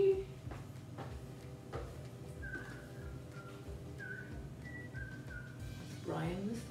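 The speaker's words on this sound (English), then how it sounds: "whistling in the background?" A person whistles a short, wavering tune in the background of a kitchen during bread making, with pauses between phrases, over soft clattering and ambient room noise.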